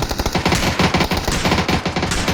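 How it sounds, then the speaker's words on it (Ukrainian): Rapid automatic gunfire in the battle royale game PUBG on the Erangel map, dense bursts of shots rattling continuously and loudly throughout with no talking. "А ще хтось стріляє десь."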